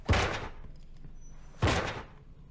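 Two heavy thuds roughly 1.5 seconds apart, a locked door being shoved without giving way in a tactical shooter game, each impact sharp and loud with a short rumbling tail.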